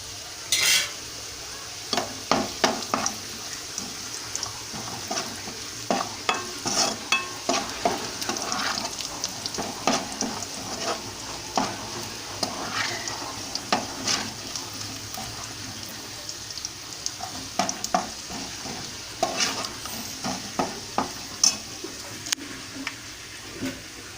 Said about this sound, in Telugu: ఇప్పుడు జీడిపప్పు వేయించేసుకోవాలి. జీడిపప్పు వేస్తున్నాను చూడండి.